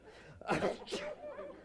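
A single sharp sneeze up close, with a quick intake before it and a brief voiced trailing sound after.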